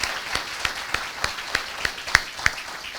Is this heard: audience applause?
yes